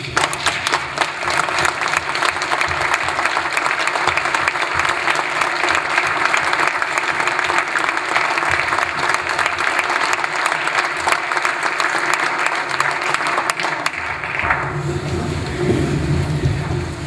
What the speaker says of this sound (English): would you stand with me and give them a round of applause?